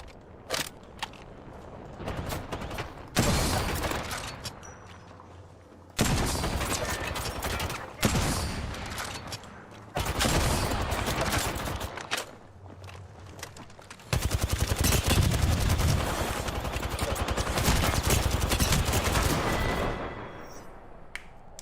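Rapid bursts of automatic gunfire and single shots from Apex Legends arena combat, loud and close, coming in several long volleys separated by short gaps, with no talking over them.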